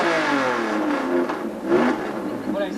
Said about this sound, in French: c'est une Porsche à carburateur